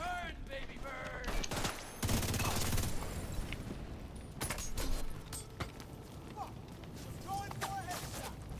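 Bursts of gunfire during a headshot attempt in The Division 2 on Xbox, with dense crackling volleys and sharp single shots mixed with game effects, mid-loud, and a voice talking over parts of it.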